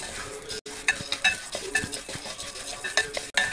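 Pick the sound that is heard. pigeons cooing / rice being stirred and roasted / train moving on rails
rice being stirred and roasted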